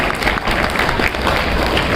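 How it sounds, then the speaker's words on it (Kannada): An audience at a Public TV event bursts into loud, dense clapping that stays steady for a couple of seconds, close and filling the hall. "ಪಬ್ಲಿಕ್ ಟಿವಿ ಅವ್ರಿಗೊಂದ್ಸರಿ ಜೋರಾಗಿ ಚಪ್ಪಾಳೆ ತಟ್ಬಿಡಿ"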